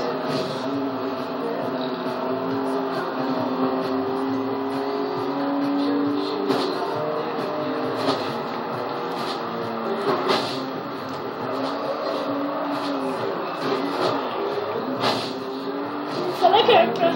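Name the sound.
racing car engines overtaking in Forza Horizon 2 video game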